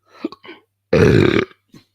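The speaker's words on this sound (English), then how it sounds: "Belching to death." A single loud, drawn-out belch of about half a second, alone and close, with brief murmured voice sounds just before and after it.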